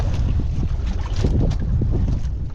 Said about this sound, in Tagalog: medyo mahangin itong ano, kabagat yung hangin